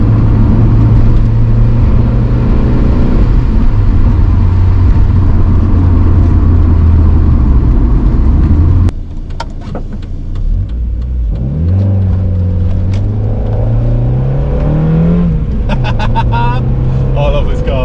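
A first-generation Mazda NA MX-5 Miata track car's engine rumbles loudly at close range, then after a short dip revs up and down in rising and falling sweeps, with people talking over it.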